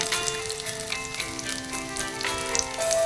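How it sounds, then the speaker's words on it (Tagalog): Chopped garlic sizzles and crackles in hot oil in a pan, a steady close frying hiss with scattered pops and no talking. "Mainit na ang ating oil, lagay na natin ang ating bawang."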